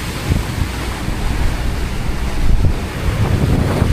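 Strong north wind gusting over the open Pacific Ocean, buffeting the microphone with a low rumble and the wash of waves beneath.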